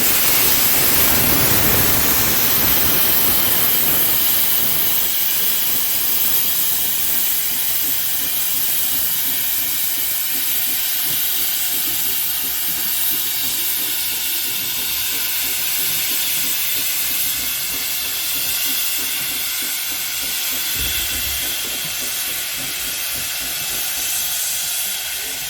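A steam locomotive hisses steadily at Tanfield Railway during a steam gala, a broad continuous rush of escaping steam close by, easing slightly over time with faint low rumbles beneath.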